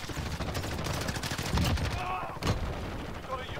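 Rapid M4 rifle bursts in Call of Duty: Modern Warfare, loud and close, with dense overlapping shots and a few sharper single cracks near the end, under game effects and some radio chatter.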